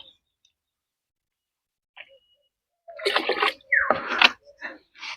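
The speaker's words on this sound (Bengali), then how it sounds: "এই যে ফাঙ্গিসাইডের জল আমি একে প্রথমেই দিয়ে দিলাম একটু" Fungicide water is poured onto a rose plant, giving two short bursts of splashing, gurgling liquid close by, set against near silence with a faint click beforehand.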